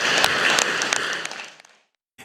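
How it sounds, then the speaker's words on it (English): Delegates at the CAF General Assembly applaud in a dense, bright round of clapping that fades out over about two seconds, ending in near silence with a faint final thump. "Can we clap hands, please?"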